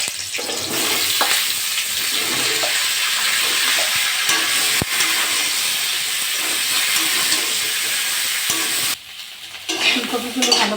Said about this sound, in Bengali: ওই তেলে আমি ফুলকপিগুলো ভেজে নেব